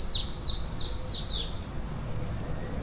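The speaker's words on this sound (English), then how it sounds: "You're mostly hearing birds, which is how it should be." Birds sing on a quiet residential street in Playa del Carmen, with one bright, repeating chirp heard clearly for a moment over a steady, low outdoor rumble.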